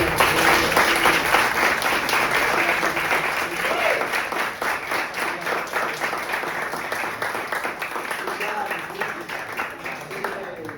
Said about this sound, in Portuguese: Por favor, um forte aplauso para a Lula.